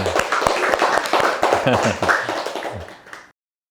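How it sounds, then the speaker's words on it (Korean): A small audience at a Buddhist dharma talk claps in a dense burst of sharp, quick hand claps, close and fairly loud, with voices mixed in, before stopping abruptly into silence. "박수 한번 주세요"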